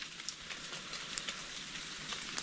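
Rain from an approaching storm in forested countryside falls as a steady, faint hiss, with scattered soft drop taps throughout.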